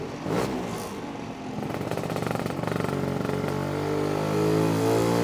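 Lambretta scooter engine with a SIP Nordspeed exhaust running up close, a loud two-stroke buzz that rises and holds as the revs climb steadily.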